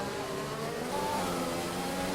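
Formula 1 race car engines in F1 2020 drone loudly and continuously, a steady high-revving whine with a slight rise in pitch, close and unbroken over the whole moment.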